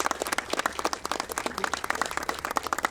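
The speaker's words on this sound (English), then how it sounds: "Let's hear another round of applause for these guys." An audience breaks into steady, dense applause, many hands clapping together in a continuous rhythmic patter that stays close and full for the whole stretch.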